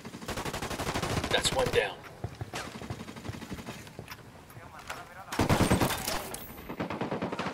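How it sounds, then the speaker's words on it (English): Heavy gunfire in Ghost Recon Wildlands bursts out in rapid automatic volleys, loud and close, then drops to scattered shots before another dense barrage. Someone speaks briefly. "Heavy artillery."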